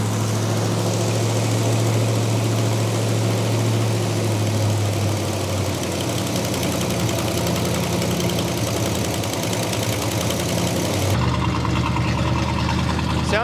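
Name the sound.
Buick Wildcat engine running after 21 years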